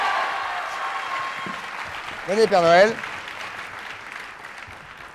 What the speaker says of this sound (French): Applaudissements pour cet acrobate, s'il vous plaît.